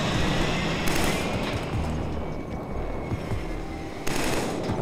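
Turret fire in the PS3 shooter Killzone 3, a dense, loud, sustained roar of automatic gunfire and blasts that surges in two sharper bursts, close and continuous, with no talk over it.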